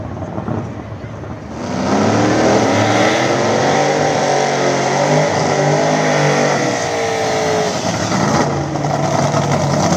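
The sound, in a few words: Chevy Nova drag car accelerating down track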